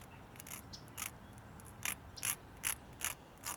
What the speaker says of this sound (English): file that down so it's flat.